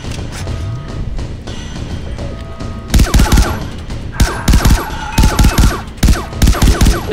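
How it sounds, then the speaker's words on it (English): Gunfire from a futuristic Robocop-style weapon in the video game Far Cry 3 Blood Dragon: several loud bursts of rapid shots, each in a tight cluster, separated by short pauses over a muffled game background. "It's like a Robocop gun"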